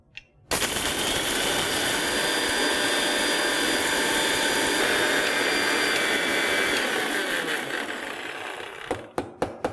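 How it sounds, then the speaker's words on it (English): Electric grinder whirring loudly as it pulverizes dried spices and Indian bay leaf into powder, a steady harsh roar from close by that starts abruptly, runs several seconds, then winds down with a few short pulses. "Let's grind this into a powder."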